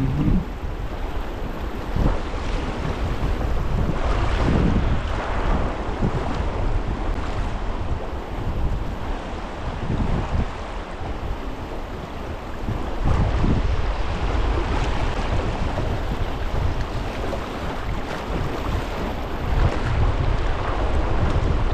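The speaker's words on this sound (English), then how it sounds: "Our last significant rapid, according to Jeff's maps" Rushing river rapids during a packraft descent in Agawa Canyon, Ontario wilderness, a loud steady roar of churning whitewater with wind buffeting the microphone throughout, no talking.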